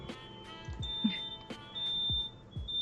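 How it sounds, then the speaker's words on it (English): A fire alarm sounds with repeated high electronic beeps at a steady rhythm, moderately faint, over low room noise and a few brief knocks. "oh, fire alarm"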